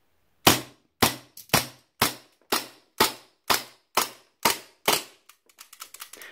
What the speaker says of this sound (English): I think that was 10 shots.